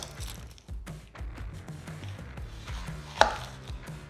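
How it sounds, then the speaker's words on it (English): A knife slicing a medium red onion thinly on a cutting board, a quick steady series of crisp chops, close and alone, with one sharper knock near the end. "and then we're just gonna slice it really thin"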